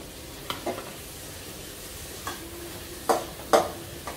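Onions fry over a high flame for gobi manchurian, with a steady low sizzle under a few sharp scraping stirs of a spatula against the pan, close by and without voices.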